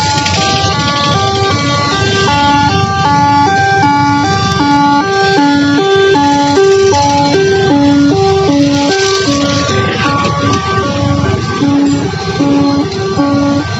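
Warning signal at a railway level crossing in Karimnagar as the gate comes down: a loud, repeating electronic tone pattern of stepped pitches cycling steadily for about fourteen seconds over traffic rumble.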